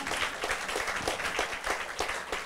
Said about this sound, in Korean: 박수까지 나오는데 이왕이면 박수 치세요.